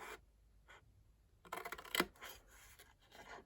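Scissors snip through patterned paper while a handled gift bag is being cut and notched, giving a few quiet, close, crisp cuts and scrapes with short pauses between them, and no talk.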